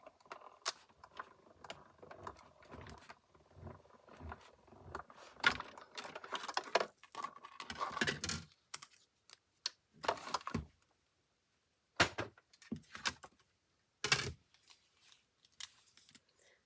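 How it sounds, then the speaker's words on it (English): A small die cutting machine cranks through a Christmas shaker card die: irregular clicking, ratcheting and rolling bursts with pauses between, close and fairly quiet, no voices. "I'm going to bring in my die cutting machine"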